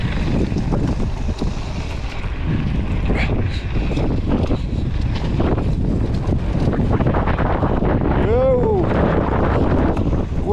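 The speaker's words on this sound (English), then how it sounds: "Wind is picking up." Wind gusting across an outdoor mountain bike park at Pal Arinsal, a steady broadband roar buffeting the microphone throughout, with faint speech and brief tonal sounds under it.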